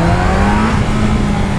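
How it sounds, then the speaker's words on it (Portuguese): A car engine revs hard under acceleration, loud and close, its rising tonal drone sustained over the whole stretch with no voices. "na hora que o motor enche, acontece isso"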